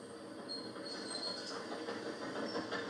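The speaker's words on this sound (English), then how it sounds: "I don't think we can stop this train" A train in Farming Simulator 19 rolls past with a steady rumble and high metallic wheel squeal, fairly loud and continuous.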